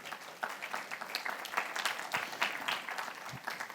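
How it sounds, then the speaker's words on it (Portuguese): Faint, distant applause from the audience at a 2023 satellite industry congress, an even patter of many hands clapping with no clear voices on top. "peço uma salva de palmas para ele"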